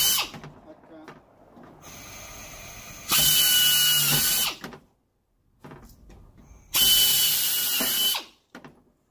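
A power drill bores a hole through a wooden panel or door, with two loud sustained whirring bursts of a few seconds each, separated by quieter handling sounds, close by.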